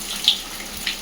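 Steady rushing rainwater flows continuously through a blocked street drain, close by, with a couple of brief splashy spikes.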